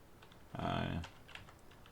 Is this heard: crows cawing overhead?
no